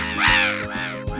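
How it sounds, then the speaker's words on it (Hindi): Crows caw in a Hindi cartoon with a robot boy: three loud, harsh calls in quick succession, close and unaccompanied. "लेकिन ये कौवे लोग इतना शोर क्यों करते हैं?"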